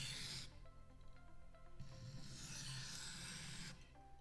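A knife being drawn across a sharpening stone on a Katocut Nowi Home guided system, a few close, soft grinding strokes with brief pauses between them, quiet and alone.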